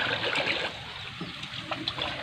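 Eco enzyme being stirred into water drawn from a farm irrigation channel, with a steady, close trickling and sloshing of liquid throughout and no talking.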